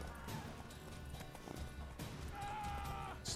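Horse hooves clip-clopping at a gallop in The Witcher 3, a rapid drumming rhythm mixed with game music and combat noise, with a voice talking over it.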